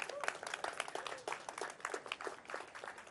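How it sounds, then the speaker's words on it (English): Audience applause at an outdoor rail announcement event for the chair of the Virginia Railway Express, a moderate crowd clapping in a steady patter of distinct hand claps, somewhat distant and fairly faint. "So please give her a round of applause as well."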